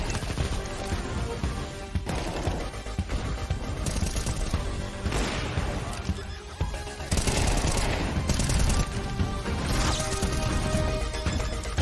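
Dense rapid gunfire and blasts from Counter-Strike 2, rattling automatic bursts and crashing explosions packed together continuously and loud, with a heavier burst toward the end.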